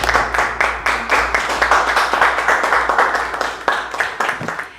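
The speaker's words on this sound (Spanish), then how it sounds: "Y pido un aplauso para este evento" Applause from an audience at a company event celebrating a business launch, dense and steady across the whole stretch, with a low hum running underneath and faint voices mixed in.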